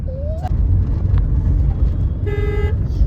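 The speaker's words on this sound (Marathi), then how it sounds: "नुसतं हॉर्न मारतोय" A vehicle horn gives a short rising toot, then a steady loud honk of about half a second, close by over a low traffic rumble.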